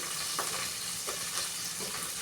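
Fish curry ingredients fry steadily in a hot pan, a continuous close sizzle with faint periodic scrapes of stirring, and no voices.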